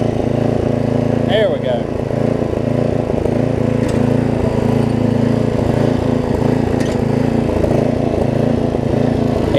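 Murray rear-engine riding mower running steadily after valve grind and ignition switch cleaning, a loud, close, continuous small-engine drone throughout with brief talk over it.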